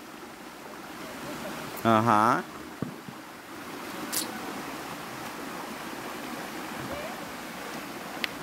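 A river runs high, giving a steady rushing wash of water that carries through the whole stretch. A few brief voices and short noises sit on top of the flow.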